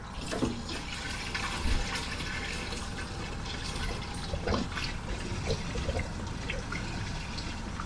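Water runs steadily from a coin-operated tap at a campervan stopover in Forchheim, a continuous close splashing and gurgling flow with faint outdoor background and no talking.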